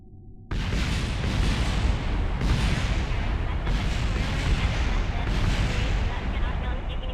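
A spacecraft explodes in Kerbal Space Program: after a brief quiet hum, a sudden loud blast becomes a sustained roaring, crackling rumble that swells in waves and stays dense and close to the end.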